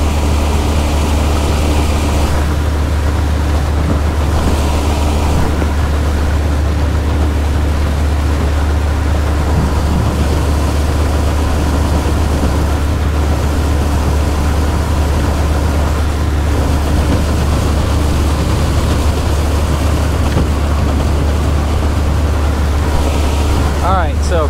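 Wright Water 12 SkiffWorX skiff motorboat running on plane, a loud steady engine drone with constant water and wind rush throughout, no speech.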